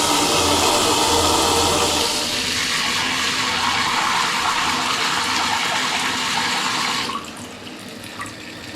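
Water gushes under pressure from a home water system in a loud, continuous rushing stream that eases slightly after a couple of seconds, then drops off sharply near the end to a quieter trickle.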